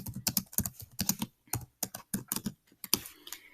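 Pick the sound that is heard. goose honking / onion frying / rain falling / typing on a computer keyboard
typing on a computer keyboard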